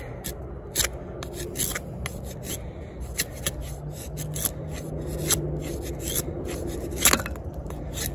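A Cold Steel Woodsman's Seax knife shaves curls from wood in repeated dry, rasping strokes, close and steady, with sharper scraping bursts at irregular moments and no talking.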